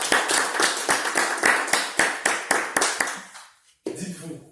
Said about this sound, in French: j'aimerais vraiment qu'on applaudisse pour ces organismes.